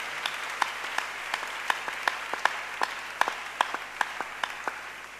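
Church congregation applauding the Lord at the close of a service, a steady roll of hand claps with sharper individual claps popping out regularly, moderately near, no voices over it.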